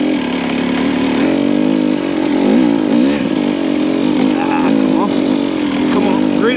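KTM hard enduro motorcycle on a snowy trail, its engine burbling at low RPM with uneven throttle blips and pitch wavers as the rear tire hunts for grip, close and continuous.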